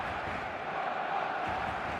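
Stadium crowd roar from an eFootball match, a steady, dense wash of cheering and chanting that stays loud and even throughout, with no single voice standing out.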